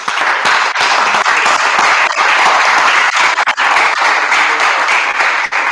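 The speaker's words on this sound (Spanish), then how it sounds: "Nada, un aplauso." Loud, dense audience applause at the close of a technical talk on Ubuntu application security, continuous clapping with a few sharper individual claps standing out near the end.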